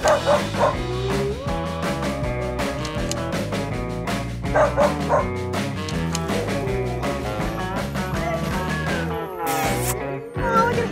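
Steady, dense barking from several sled dogs, yips and bow-wows overlapping continuously at close range, with an excited, chaotic rhythm throughout.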